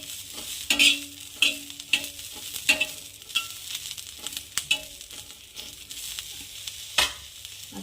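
Green chillies are stirred as they fry in a pan, with a soft sizzle under repeated sharp scrapes and clacks of the spoon at an irregular rhythm.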